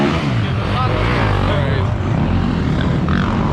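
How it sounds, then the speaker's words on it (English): A drone hovering over a bike and car stunt lot at night gives off a steady, engine-like buzz that runs throughout, blended with crowd murmur and other motor noise. "Drone in the sky."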